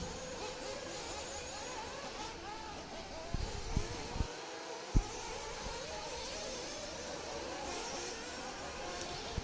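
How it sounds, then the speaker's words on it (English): Nitro RC buggies racing in a Sportsman Nitro Buggy main at a championship track, a continuous high-pitched buzz of small engines rising and falling, with a few sharp knocks and a brief lull. "This is our Sportsman Nitro Buggy G main."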